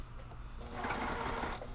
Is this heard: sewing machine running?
yes